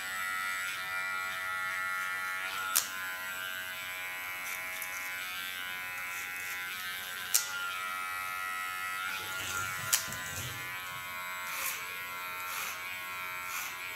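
Electric hair clipper buzzing steadily while trimming very short hair, a close continuous hum with a few brief clicks, no voices.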